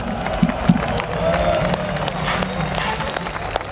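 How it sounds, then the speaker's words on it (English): Festival crowd at a metal concert at Hellfest clapping and cheering, a dense roaring wall of noise with a few distinct hand claps up front. "Give yourself a round of applause"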